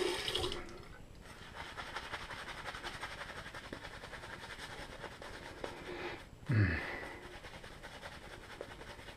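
Water runs from a tap during a wet shave with a Kotetsu ko-bunka razor, a steady close rushing stream throughout, with a brief louder splash near the end.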